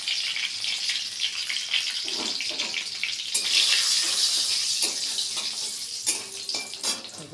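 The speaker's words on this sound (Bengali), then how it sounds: "ফোড়নে দিলাম দারচিনি লবঙ্গ এলাচ শুকনো লঙ্কা 5 ফোড়ন তেজপাতা" Whole spices (cinnamon, cloves, cardamom, dried red chilli, bay leaf) drop into hot oil and sizzle with a bright, steady crackling hiss, up close and without talk.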